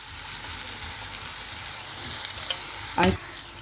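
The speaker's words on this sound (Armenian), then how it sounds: "տապակելու եմ այնքան, մինչև ոսկեգույն երանգ ստանան սոխերը" Onions fry in hot vegetable oil with a continuous close sizzle, and a brief louder clatter of stirring comes near the end.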